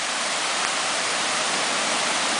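Steady, loud roar of a flooded creek rushing far above its usual banks after heavy flooding in Duluth, a dense continuous hiss of churning water with no pauses and no voices.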